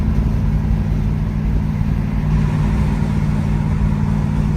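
A 1971 Oldsmobile Cutlass S with a 2-barrel carburetor cruising at highway speed, about 60 to 65 mph, giving a steady, loud low engine drone and road rumble throughout, with no talking.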